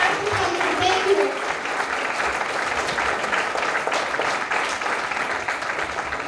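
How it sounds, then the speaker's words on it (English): Sustained audience applause fills an induction ceremony hall, steady clapping from a crowd without pause, fairly loud and close throughout. "Let's give them a thunderous round of applause"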